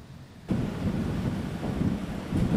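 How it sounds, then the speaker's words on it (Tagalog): Heavy typhoon rain and strong wind from Typhoon Emong in Zambales, a dense, loud roar of downpour and gusts that surges after a quiet start and holds steady. "buong magdamag kaming nakaranas ng malakas na ulan na sinasabayan pa ng malakas na hangin"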